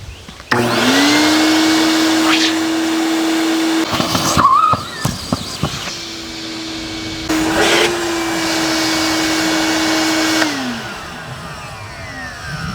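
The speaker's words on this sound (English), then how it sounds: "And then go vacuum it from the other end." A vacuum runs at one end of an electrical conduit pipe, pulling a string through it. Its steady whine is broken by brief knocks and rattles, drops away, then returns at a steady drone before cutting off, with no voices.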